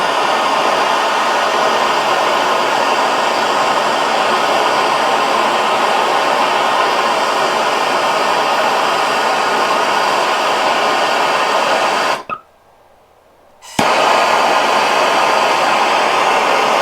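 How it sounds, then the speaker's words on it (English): A MAP gas or propane torch burns with a steady, loud broadband hiss. It drops out briefly near the end, then resumes. "take some MAP gas, propane, whatever, and a torch if you have one."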